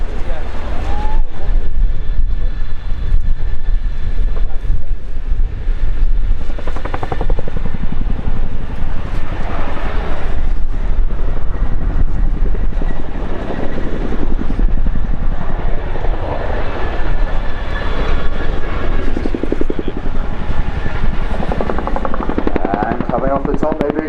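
Chinook twin-rotor helicopter flying a display at the RIAT 2019 airshow, its loud continuous rotor thump and turbine roar filling the whole stretch while an announcer talks over it.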